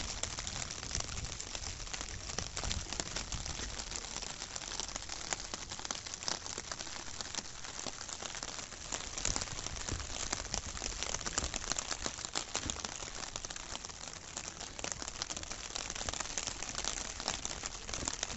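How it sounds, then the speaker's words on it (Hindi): Steady rain pattering close overhead on an umbrella during a visit to Alanya Castle, Turkey, a dense continuous hiss with fine crackling drops that never lets up. "ठीक ठाक बारिश हो रही है"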